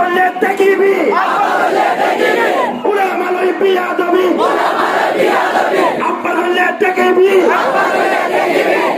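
A large crowd at an Islamic religious gathering in Bangladesh shouts the takbir in unison, several loud, rhythmic waves of collective chanting in quick succession.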